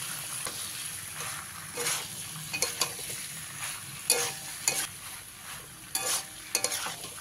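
Chili chicken is stirred in a pan: a spoon scrapes and clatters in short, irregular strokes over a low, steady sizzle, close and moderately quiet.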